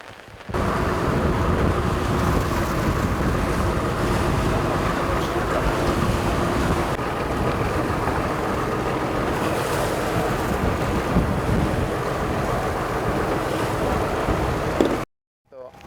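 Rough, choppy sea washing around a small fishing boat off a remote island, a loud continuous roar of waves and wind buffeting the microphone, cutting off abruptly near the end.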